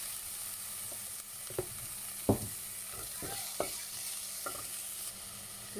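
Onions and five-spice frying in oil in a pan are mixed with a spatula: a low, steady sizzle under scattered sharp scraping knocks at an uneven pace, close by.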